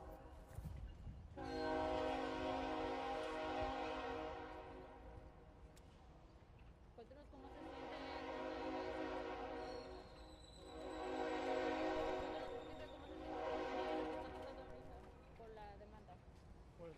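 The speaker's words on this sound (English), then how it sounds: "Let's wait for the train to pass." A passing train sounds several long, loud horn blasts over a steady rumble of rail noise, with a pause between the first and later blasts; voices murmur faintly underneath.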